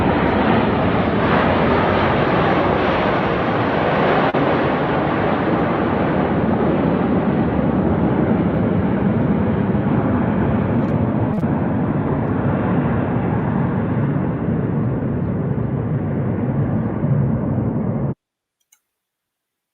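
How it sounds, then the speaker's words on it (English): Airplanes flying overhead, a loud, sustained broad roar of jet engines that holds steady for about eighteen seconds before cutting off abruptly into silence. "Those planes were emitting the very toxins coming out of their exhausts"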